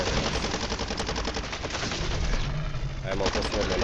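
Rapid automatic gunfire rattles continuously and loudly in the Call of Duty Warzone video game zombie mode, dense bursts filling the whole stretch with a faint voice underneath.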